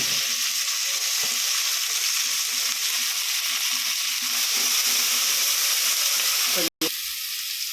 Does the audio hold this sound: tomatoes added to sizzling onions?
yes